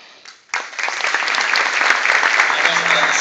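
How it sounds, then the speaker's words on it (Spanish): Applause breaks out suddenly for an athlete at Bogotá's sports awards ceremony, a loud burst of clapping from a large audience that swells and keeps going strongly. "Aplausos para Lucía."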